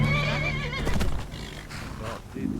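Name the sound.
horse neighing in the video game Skyrim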